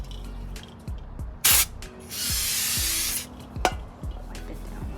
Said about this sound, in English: you need to spray it with brake clean.